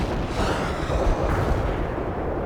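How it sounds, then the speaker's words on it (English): An anti-tank missile launches during a World in Conflict battle, blending into a dense, continuous roar of booms and rumbling gunfire that stays loud for the full stretch. "Launching an AT missile."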